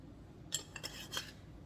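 A utensil mixing seasoned tuna salad (salt, dill weed and garlic powder) in a bowl gives three faint, brief clinks and scrapes spaced under half a second apart, quiet and close, with no talking.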